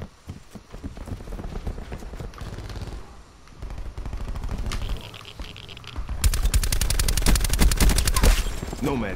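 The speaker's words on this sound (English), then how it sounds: "No, they got the shotgun, got the shotgun, watch out." Rapid video-game gunfire with shotgun blasts, bursts of repeated shots that grow denser and louder toward the end, mixed with other in-game action noise.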